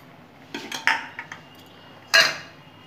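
Mango payesh (rice pudding) being stirred in a pot, a few light metallic clinks and scrapes of a spoon against the pot, then one louder ringing clank, close and alone.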